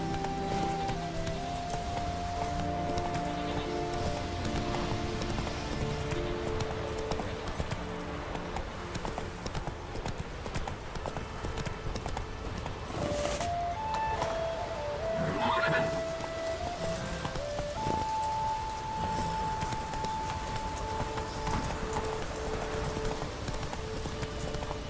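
Roach the horse from Witcher 3 trots with steady clip-clopping hoofbeats and an occasional whinny, set against a continuous game music and ambience bed, with no talking.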